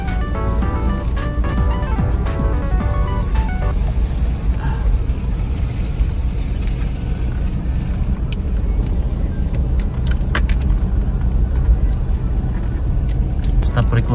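A car drives slowly along a narrow road, its engine and road rumble a steady low drone throughout, with a person speaking nervously over it.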